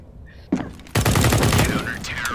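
Pistol gunshots fire in the video game CS:GO, starting with one sharp crack and followed by a rapid, dense burst of shots. The gunfire is loud and close, and a voice speaks briefly before the shooting starts.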